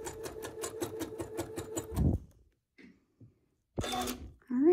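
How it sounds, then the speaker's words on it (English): A sewing machine stitches quilt binding in a fast, even run of rapid needle strokes for about two seconds and then stops, followed by quiet handling noises and a speaking voice. "so that when I sew through, it'll go right through the tip right there"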